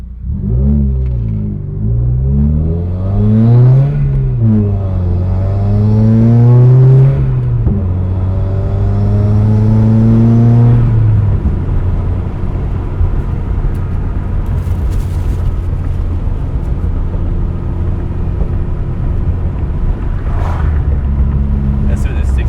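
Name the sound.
2015 Subaru WRX with Grimmspeed J-pipe driving, engine sound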